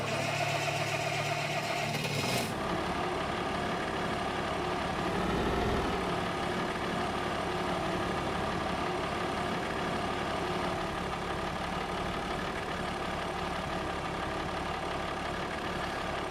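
A tractor engine idles steadily in the Farming Simulator 25 video game, a continuous low mechanical hum with a brief higher tone at the start, moderately loud and unbroken throughout.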